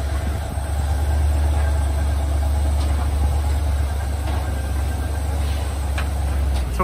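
A 1930s car runs its engine with a steady low rumble, a continuous idling-to-driving drone held at a constant level throughout, with faint clicks and scrapes on top.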